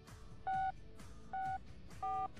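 A telephone number being dialed, with three evenly spaced keypad tones, each a clean steady beep lasting about a quarter second over faint background noise.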